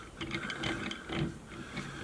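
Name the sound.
unscrewing dumbbell collar to remove weight plate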